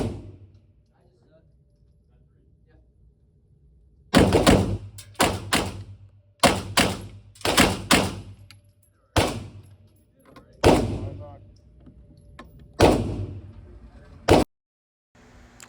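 Sig Sauer P365 FUSE pistol fired freehand, about a dozen sharp, loud shots in uneven pairs and singles after several seconds of near silence, each with a brief ringing tail.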